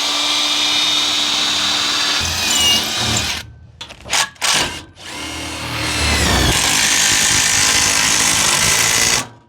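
A power drill drives a screw into a Colorbond gate with loud, close whirring that runs, stops for a few short bursts, then whirs steadily again before cutting off.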